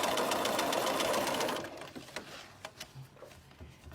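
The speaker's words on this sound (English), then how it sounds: "sew it using my 1/4 inch" A sewing machine stitching a quarter-inch seam on a quilt block runs loud and steady for about a second and a half, then stops, leaving a few soft clicks and handling sounds.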